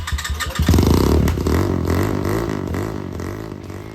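A Chinese 250cc four-stroke motorcycle engine idles on its own after a carb cleaning, opening with a few sputtering catches before settling into a steady, loud, close-up chugging run with a slight uneven wobble.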